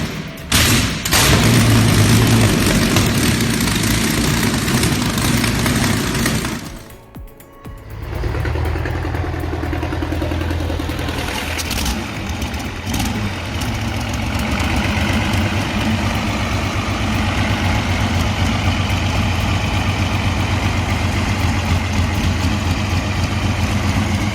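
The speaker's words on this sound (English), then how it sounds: "A deep, thunderous roar bursts from its 27-liter heart of steel." A 27-liter V12 diesel in a T-55 tank, an old military engine, roars loudly, then after a brief drop it settles into a steady, deep, continuous rumble with no talk.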